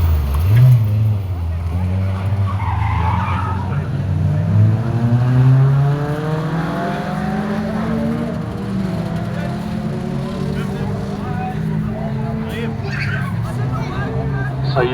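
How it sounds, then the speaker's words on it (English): Rally cars run one after another along a race stage, their engines a steady loud drone with rising and falling revs as they pass. Crowd chatter and voices carry underneath throughout. "the cars are one by one beginning to work their way towards the end of the stage"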